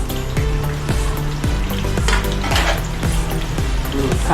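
Onions frying in oil for a home-made prawn biryani give a steady, loud sizzle, with a rhythmic scraping and clatter roughly every half second as they are stirred in the pan.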